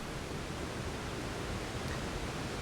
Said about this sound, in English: I'm here with Doobie in front of a waterfall